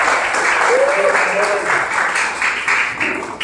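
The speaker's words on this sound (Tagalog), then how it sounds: "Isang palakpak nga sa ating Panginoon" A church congregation at a sixth anniversary service breaks into applause, a broad and sustained wash of clapping with a voice talking over it.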